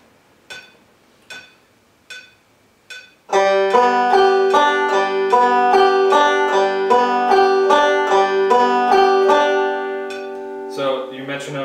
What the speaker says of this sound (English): So your metronome is going to be clicking